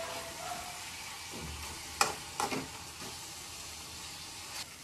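Marinated chicken frying in a pan gives a quiet, steady sizzle, broken by a few sharp clinks of a utensil against the pan.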